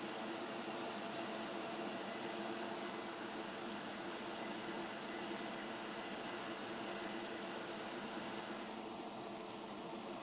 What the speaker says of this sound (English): I got to hit this with a hair dryer, otherwise that's going to smear.